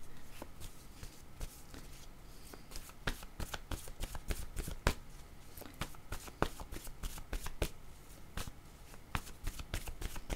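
Tarot cards are shuffled by hand up close, a continuous run of crisp riffling slaps and soft flutters at an uneven rhythm.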